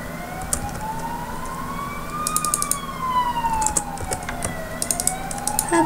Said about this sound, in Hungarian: csak most itt megy egy mentő